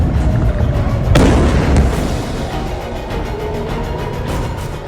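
Missile strike explosions in Haifa: a loud, rumbling boom with one sharp burst early on, then a sustained low roar that slowly fades and carries a distant, echoing quality.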